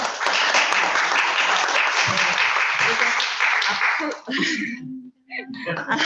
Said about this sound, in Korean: 다시 한번 감사의 박수를